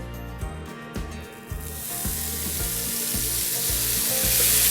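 A sweet potato breakfast hash frying in coconut oil with tandoori spice, building from a light sizzle to a loud, steady, close hiss over low background hum. No talking is heard.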